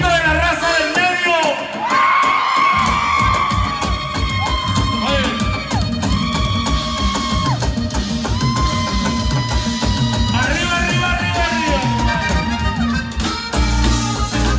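At an event at Traders Village, a crowd shouts and cheers in loud bursts, mixed with music and an announcer's voice over a sound system.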